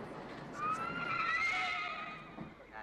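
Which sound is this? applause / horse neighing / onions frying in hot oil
horse neighing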